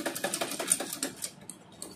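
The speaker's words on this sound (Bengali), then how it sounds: "এমনিতে আমি সেলাই দিয়ে নেব, গিরা দিয়ে নেব" A sewing machine stitches a pant hem in a fast rapid-fire run of needle clatter, close and loud, then slows and stops with a few lighter mechanical clicks.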